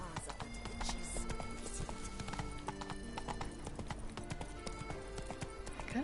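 Horse hooves clip-clop in The Witcher III: Wild Hunt, Blood and Wine, in a steady trotting rhythm, with a whinny and game sounds around them and voices talking over the top.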